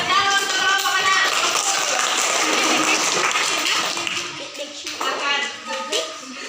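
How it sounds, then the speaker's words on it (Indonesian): Students in a classroom clap for a student group, a dense, steady patter of many hands mixed with children's chatter and voices, thinning slightly toward the end. "Beri tepuk tangan untuk kelompok 6."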